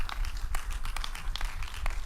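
A church congregation claps during a prayer service, a brief spell of dense, uneven handclaps from many people, moderately loud and close.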